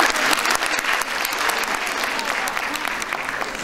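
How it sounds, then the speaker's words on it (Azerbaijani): A live audience at a children's awards show claps loudly and continuously, dense applause filling the whole stretch with crowd noise beneath. "bu balaca, amma çox istedadlı aparıcı üçün gözəl alqışlar eləyək"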